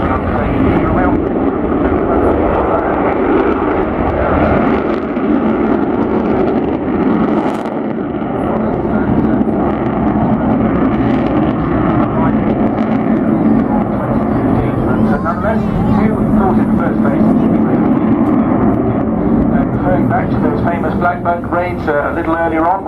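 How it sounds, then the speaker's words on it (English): An Avro Vulcan jet bomber flies at the Waddington air display in 2014, producing a loud, sustained roar that fills the whole stretch. A commentator talks over it throughout. "the Vulcan in the sky"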